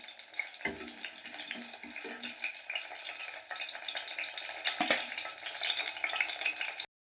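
Oil sizzles steadily in a pan as tomatoes and onions are sautéed for a South Indian oil brinjal curry, with occasional clinks and stirring scrapes over the constant close frying hiss.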